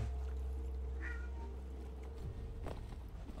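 Cat meowing in the video game Wolfenstein: a short, faint meow partway through over a steady low hum of game ambience, followed by a few soft clatters.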